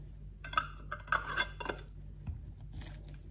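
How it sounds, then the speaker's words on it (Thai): Lids close on glass jars of pickled pine mushrooms, giving faint, close clinks and light metallic taps in a few scattered bursts, then quieter handling sounds. "ปิดฝาให้แน่นๆนะพี่น้อง"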